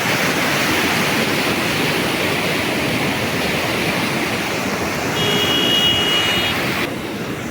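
Water rushing steadily through a canal lock, a broad continuous roar like a waterfall, loud and unbroken throughout with no talk.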